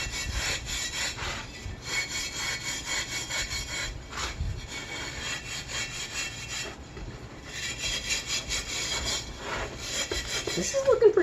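A rusty old cast iron part is scrubbed by hand in steady back-and-forth strokes, a rasping rhythmic scrape with brief pauses between bursts.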